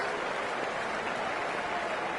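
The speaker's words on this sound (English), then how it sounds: "a round of applause for the 50 partnership, ladies and gentlemen" Steady applause from a crowd at a cricket match, dense, even clapping heard from a distance, with no voices rising above it.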